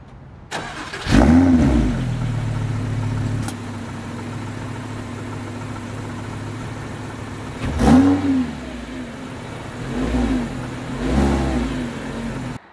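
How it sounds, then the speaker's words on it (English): Stock sports car, a McLaren 765LT, started then revved in three sharp exhaust bursts that fall back to a steady idle between them, close and loud with no voices. "let's see what kind of exhaust noise we can get."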